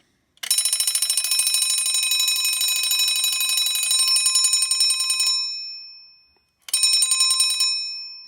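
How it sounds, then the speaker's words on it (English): A mechanical alarm clock bell rings loudly in a rapid continuous trill for about five seconds, pauses briefly, then rings again for another second. "That's the bell."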